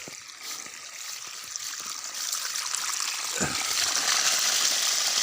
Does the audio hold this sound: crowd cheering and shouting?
no